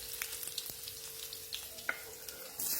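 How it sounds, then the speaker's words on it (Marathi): Garlic frying in hot oil gives a faint, steady sizzle with scattered soft pops and crackles, no voices over it. "लसूण आपल्याला छान तेलावर परतून घ्यायचंय अशा पद्धतीने"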